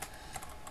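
Quick, fairly faint clicks of fingers typing on a computer keyboard, irregular keystrokes in a short burst with no talking.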